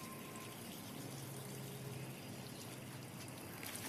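Water poured over a dog in a garden, a steady soft splashing and trickling wash that stays even and faint throughout.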